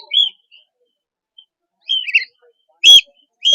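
Birds at a busy bird market give short, bright chirps and tweets in separate bursts, with quiet gaps between calls and no talking.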